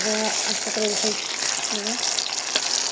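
Egg omelette frying in a pan, a steady bright sizzle throughout, with a voice speaking briefly over it near the start.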